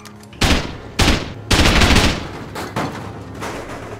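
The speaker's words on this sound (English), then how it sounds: "I'll explosive bullet this" Explosive bullets in the game Rust fire in loud, close bursts, several heavy rapid volleys with short gaps between them, alone without talk.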